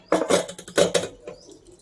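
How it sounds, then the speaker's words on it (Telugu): A pot of boiled, softened lentils being drained of its water gives a few short metallic clanks and scrapes, two louder bursts close by, then a quieter tail with no talking. "ఈ నీళ్ళన్నీ వార్చేసుకుందామండి."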